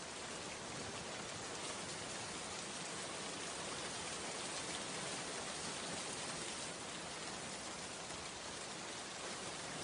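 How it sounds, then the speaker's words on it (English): Steady, heavy rain pours without a break as a dense, even hiss that fills the whole stretch. It is loud and constant, with no voices, used as a stormy-night effect. "as the rain poured relentlessly outside"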